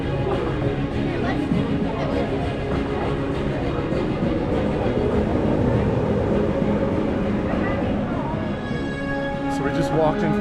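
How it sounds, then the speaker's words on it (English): A rumbling, rattling ride train at Disney's Magic Kingdom TRON area passes continuously overhead, with clattering wheels and mechanical whir, while people talk over the noise. "the train goes around and above you."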